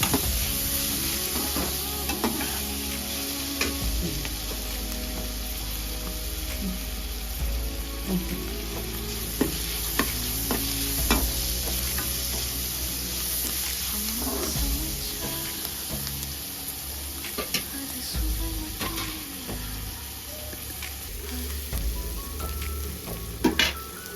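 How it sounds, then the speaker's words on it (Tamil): Green chillies and curry leaves sauté in a hot pan with a steady, close sizzle and crackle throughout, with occasional stirring scrapes and no talking. "சேர்த்துட்டு நல்லா வதக்கணும்."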